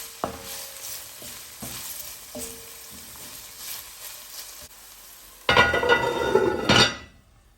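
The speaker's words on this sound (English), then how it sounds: "So go ahead and saute those together, stir them up" Scallion and scotch bonnet pepper sauté in a pan with a soft, steady sizzle. A spoon clinks against the pan now and then, and the frying swells into a louder hiss toward the end before it stops.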